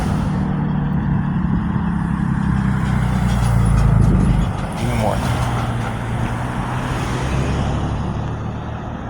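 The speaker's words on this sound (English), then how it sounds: "Oh boy, there's a lot of traffic." Steady road traffic on the Penn State Mont Alto campus beside the Activity Center, with a bus crossing amid cars and trucks; a loud, continuous vehicle rumble swells near the middle, and a person talks over it.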